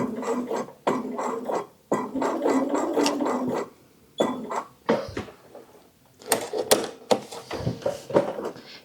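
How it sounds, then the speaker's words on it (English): A sewing machine fitted with an even feed foot stitches the casing of a small fabric reticule bag, running in several close bursts of steady buzzing separated by brief pauses. "I'm going to sew up to this pin and backstitch"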